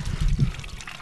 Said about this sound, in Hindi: ये घर वाले लोग का पानी हम लोग चोरी कर रहे हैं ड्रम में से।